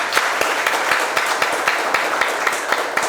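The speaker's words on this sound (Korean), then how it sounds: "박수 한번 부탁드리겠습니다." Audience applause at a political campaign rally in Daejeon: a short burst of dense, even clapping from a crowd, fairly loud and continuous with no talk over it.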